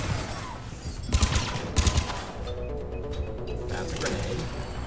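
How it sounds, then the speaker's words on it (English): Turret gunfire in Mass Effect 3 combat, sharp bursts of shots around the one- and two-second marks over a steady rumble of battle noise. "God, I hate turrets!"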